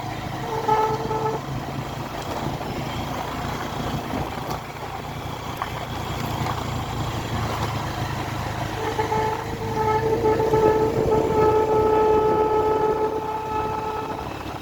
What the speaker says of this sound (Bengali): বাইকের হর্নটাও ডিস্টার্ব দিচ্ছে